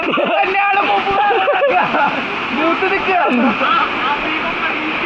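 A forest waterfall in Thrissur roars steadily and close, with someone talking over the rushing water throughout.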